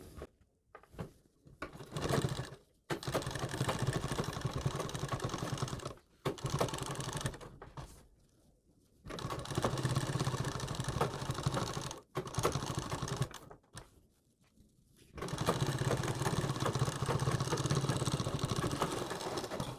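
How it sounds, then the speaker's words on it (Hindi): A sewing machine runs in bursts, stitching a sleeve onto a garment, with steady mechanical whirring broken by short pauses between seams. "अपनी आस्तीन में यहाँ पर सिलाई लगाना शुरू कर देंगे।"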